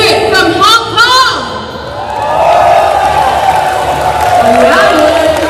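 A large ceremony crowd from the Hong Kong delegation at an Action Air World Shoot closing event cheers and whoops loudly, the roar swelling and holding across the whole stretch, with voices calling out.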